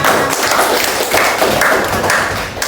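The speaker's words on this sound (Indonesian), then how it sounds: "Iya, tepuk tangan dulu untuk Rehan jawabannya." Students clapping in a classroom, a dense burst of hand claps throughout, moderately loud and fairly close.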